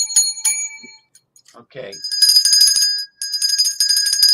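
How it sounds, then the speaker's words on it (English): A bright metallic bell, like a bicycle bell, rings repeatedly in clusters of rapid trills, loud and close, with a brief spoken word in the lull between rings. "You keep ringing that bell"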